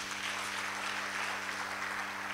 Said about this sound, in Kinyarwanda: Ikadushimire Theoneste Pasteur tuganirije ijambo ry'Imana. Reka tumukomere amashyi menshi